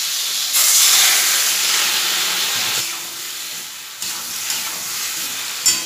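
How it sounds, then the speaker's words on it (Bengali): Vegetarian curry simmering and sizzling in a pan, with a steady broad hiss and intermittent scraping taps of a spoon stirring, close and moderately loud, no talking. "অল্প পরিমাণে জল দিয়ে দিয়ে কষবো"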